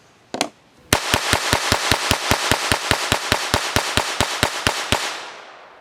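A Sig P322 .22LR pistol fires Fiocchi high velocity rounds in a fast, even string of about twenty sharp cracks, after one earlier shot, loud and close, with a ringing tail after the last shot.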